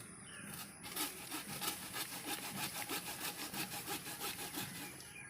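Hand saw cutting through a lemon tree branch during pruning, a steady rhythmic rasp of back-and-forth strokes, close and moderately quiet, with no talking.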